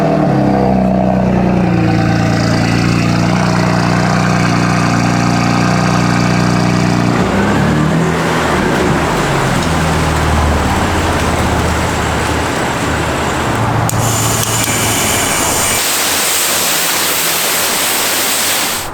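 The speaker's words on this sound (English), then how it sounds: "let's go ahead and get a cold start" A BMW M4 fires up from cold with a loud, close burst that settles into a high, busy idle, then drops to a lower rumbling idle with a sharp change near the end.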